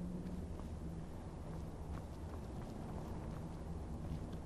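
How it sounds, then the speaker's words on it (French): A steady, even rush of wind blows without pause in the video game Skyrim, a constant hollow roar with no distinct events. "Il y a du vent ici, hein?"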